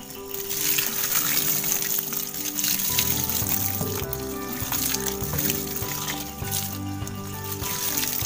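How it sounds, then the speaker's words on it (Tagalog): Liquid is poured over a Madre de Agua ferment, giving a continuous trickling, splashing flow that stays steady and fairly loud throughout, with a low hum beneath. "So ibubuhos lang natin to."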